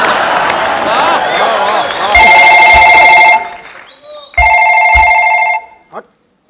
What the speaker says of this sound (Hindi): भाभी का जो फोन बज रहा है वो भी तो उठाना चाहिए